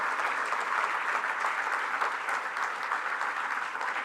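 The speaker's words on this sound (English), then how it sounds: "Students, one more time, a huge, huge round of applause for this inspirational oration." A hall of students applauds after a memorial oration, a steady, even wash of clapping heard from some distance, continuous and unbroken throughout.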